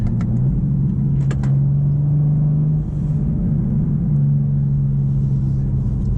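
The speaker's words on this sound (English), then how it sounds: "the engine is the dominant characteristic in this car as far as what you hear when you're driving" A 2023 BMW M4 CSL engine drones steadily inside the cabin on the highway, with a low humming pitch that shifts slightly as it drives, plus faint road rumble.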